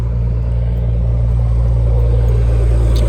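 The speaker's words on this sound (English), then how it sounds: "Big rigs coming through" Big rig semi trucks roar by on US Route 60 near Mountainair, New Mexico, a loud continuous low rumble of engines and tires with no talking.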